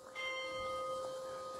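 A church bell in North Macedonia rings with a sustained, steady metallic tone that sounds distant and soft, with no talking.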